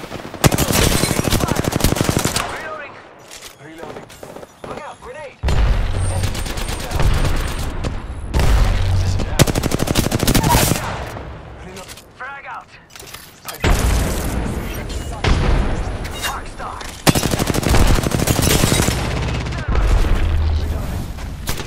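Gunfire in Apex Legends comes in loud, close bursts of rapid automatic shots alternating with brief pauses, heavy booms underneath, and game voice lines calling out over the shooting.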